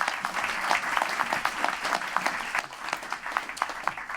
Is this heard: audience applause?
yes